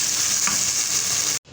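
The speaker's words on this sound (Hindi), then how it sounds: "आपने इसको इतना भूनना है कि इसका जो ऑयल है ना बिल्कुल अलग हो जाए।" Pumpkin fries in oil in a pan, a loud, close, steady sizzle that cuts off abruptly near the end, then resumes more quietly.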